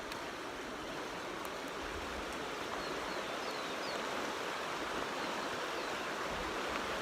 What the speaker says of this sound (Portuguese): E essa água corre.